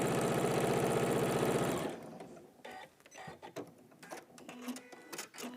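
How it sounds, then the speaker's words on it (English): Sewing machine stitching a seam in quilting fabric, a loud steady mechanical whir for under two seconds that stops abruptly, followed by quieter handling clatter. "So I'm just going to quickly sew down there."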